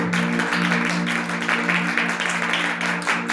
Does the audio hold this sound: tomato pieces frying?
no